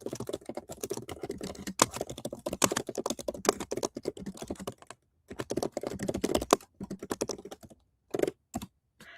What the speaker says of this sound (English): I have no idea if you can actually hear my keys clicking